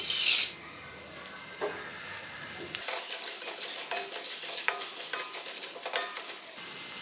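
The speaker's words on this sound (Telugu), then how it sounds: "నూనె వేడెక్కిన తర్వాత శనగపప్పు, మినప్పప్పు, ధనియాలు, జీలకర్ర, కొన్ని మెంతులు వీటిని ఫ్రై చేసుకోవాలి" Chana dal, urad dal, coriander seeds, cumin and fenugreek fry in hot oil for curry leaf powder, a soft steady sizzle broken by scattered scrapes and clinks of a spoon stirring the pan, close by and without speech.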